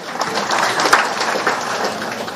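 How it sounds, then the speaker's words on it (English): Applause from an audience at a formal gathering honouring the Attorney General, a steady dense patter of clapping sustained at moderate level throughout. "Please, a round of applause for him."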